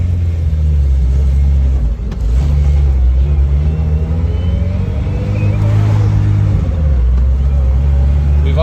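A Suzuki Samurai's engine drones steadily in low transfer-case gears, a loud, continuous rumble with a brief dip in revs before climbing again, close up throughout.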